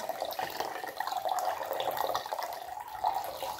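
Water splashing and trickling in a mug during a face bleach rinse at home, a steady close wet sloshing and dripping with no voices.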